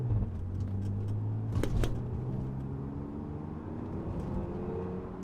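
An Audi S5 accelerating hard: a steady low engine drone with rising harmonic tones, close and continuous throughout, with a brief louder burst near the start and no talking.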